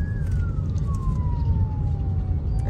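An ambulance siren on a road in Accra, Ghana, sounds as one long falling wail as it passes, clear above a heavy rumble of traffic and engine noise.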